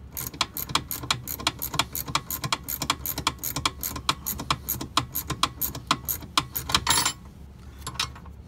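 A nut on a school bus driver's seat is tightened with a tool that gives a rapid series of sharp metallic ratcheting clicks, close and fairly loud, before stopping abruptly near the end.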